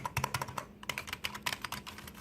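Typing on a ChonChow keyboard whose keycaps give a mechanical feel, a quick irregular run of light clicks and taps at close range with no voices.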